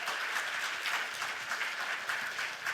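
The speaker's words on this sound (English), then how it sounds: "give a round of applause for the organizers for this event" Audience at the HarvardXR 2025 event applauding the organizers, a steady dense wash of many hands clapping throughout, fairly loud and sustained with no voices on top.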